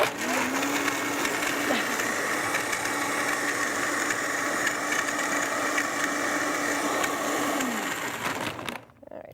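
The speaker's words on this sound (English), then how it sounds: "Just blend and blend and blend and take your time." A blender whirs through a nut-based gravy for a vegan sausage-style gravy, a steady loud motor drone running for several seconds before cutting off abruptly at the end.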